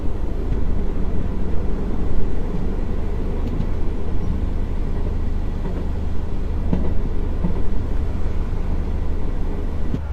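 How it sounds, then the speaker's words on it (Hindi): Passenger train running at about 100 km/h on a railway line in Nepal, a steady loud low rumble of wheels and carriage noise throughout with faint rhythmic clatter, no talk. "फिलहाल अभी 100 की रफ्तार में इस रेल मार्ग पर मैं यात्रा कर रहा हूँ"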